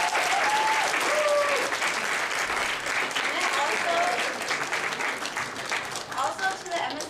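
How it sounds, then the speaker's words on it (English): Audience applause fills the room at a university Hijab Day event, sustained, evenly textured clapping from many people while voices talk and call out over it. "So can we give a round of applause?"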